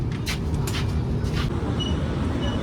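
A heavy rumbling train rolls into NJP station without stopping yet, with clattering rail noise and a few brief hissing bursts, loud and close throughout.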